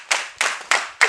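At an ADECOG association congress, four crisp, evenly spaced claps ring out close by in a steady rhythm, a short round honoring president Mponu Germain.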